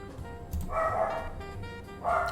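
Two short barks from a pet dog in the background of a room, a yelping bark followed by a second about a second later, moderately faint and without talk.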